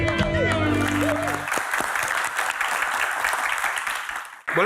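Studio audience applause at a Q&A show with a comedian, dense clapping rising after a sung phrase ends and continuing for several seconds before cutting off, with voices briefly underneath.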